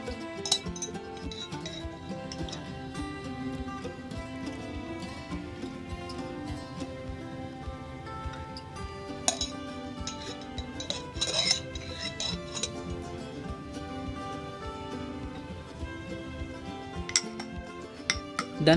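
A metal spoon clinks and taps repeatedly against a glass while two spoonfuls of honey are stirred into hot lemongrass tea with lime juice, close up, in irregular bursts of bright ringing chinks with no talking.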